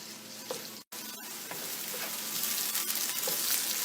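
Onions frying in a pan for chicken korma give a steady, close sizzle with faint stirring scrapes, briefly cut by a short gap before the frying continues alone.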